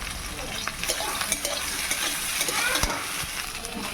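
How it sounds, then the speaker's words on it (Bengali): Soybean chunks fry in hot mustard oil with a constant close sizzle, punctuated by brisk stirring scrapes and light clinks of a spatula against the pan. "সোয়াবিনগুলো ভাজা হয়ে গেছে"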